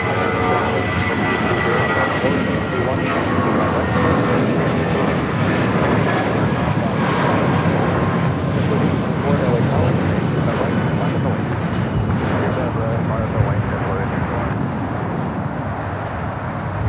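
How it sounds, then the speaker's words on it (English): A Boeing 747-8 Intercontinental airliner arriving from Seoul roars steadily and loudly on its landing approach at Los Angeles LAX, a broad continuous engine rush holding for the whole stretch. "flight coming in from Seoul, 747-8 Intercontinental."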